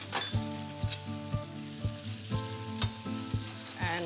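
Saffron and golden raisins frying in a pan send up a steady, close sizzle, broken by regular soft knocks of a utensil stirring them, with a faint hum running underneath.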